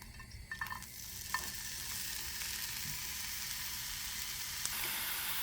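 Rehydrated dried onions frying in a little oil in a pan, a steady soft sizzle with a few clinks and stirring scrapes near the start, no talk.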